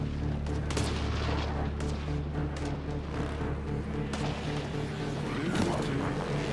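Rapid assault rifle bursts crackle in Mass Effect Andromeda on Xbox, a dense run of sharp shots and booms over a rumbling game soundscape, with no speech.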